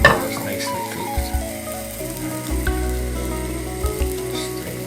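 A two-egg omelette cooking in a frying pan, with a soft sizzle running beneath a low hum and a few light scrapes and taps of a utensil against the pan.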